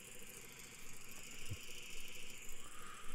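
A Rotax light aircraft engine in a flight simulator game drones with a steady, pulsing rumble at low volume, with a faint rattle partway through.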